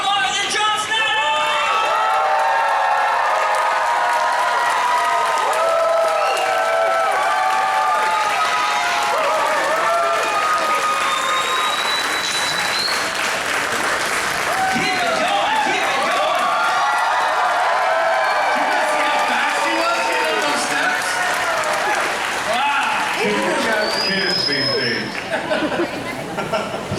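Large convention crowd at a Smallville reunion panel with Tom Welling and John Schneider applauding and cheering steadily, dense clapping with whoops and chatter throughout, loud and sustained.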